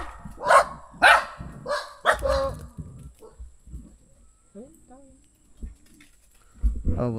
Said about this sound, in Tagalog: Tumatawa lang naman yung mga aso, hindi naman nakagat yan.